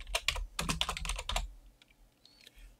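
A computer keyboard clatters with quick, close keystrokes as a track name is entered in REAPER, a fast burst of clicks for about a second and a half, then a few faint taps.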